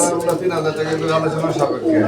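Pigeons coo repeatedly at close range, a soft, rolling low murmur that continues under people talking.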